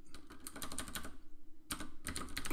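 Fast keystrokes patter on a computer keyboard in two close bursts split by a short pause, steady and moderately loud with no voice over them.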